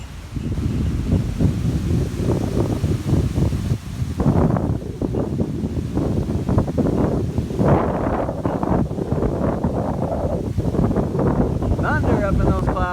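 Heavy wind buffets the microphone in rumbling gusts on top of a sailboat in Charleston, close and loud, with a person talking underneath at times.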